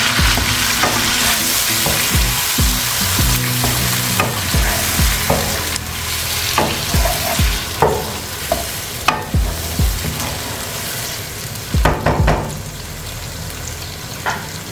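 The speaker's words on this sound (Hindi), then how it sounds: "और ये हरी मिर्ची हमने साबित इसके अंदर ऐड कर दी है" Whole green chilies and potatoes sizzle loudly in hot oil for a Lahori potato curry, a dense crackling fry broken by repeated sharp scrapes and knocks of a spoon stirring against the pan, with no talking.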